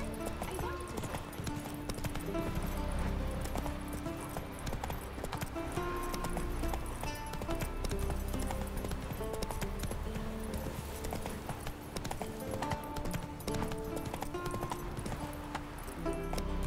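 Roach, the horse in the video game The Witcher 3: Wild Hunt, gallops with continuous rapid hoofbeats under dense game music and ambience, with a faint whinny.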